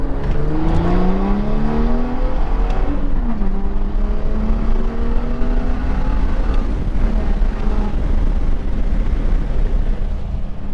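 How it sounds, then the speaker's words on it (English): A car with an MHD Stage 2 tune pulls hard in second gear from an on-ramp, its engine droning loud and continuous with rising then settling pitch, close and dominant with no talk over it. "We're on the on-ramp right now. Let's do it. It's second gear, 2500."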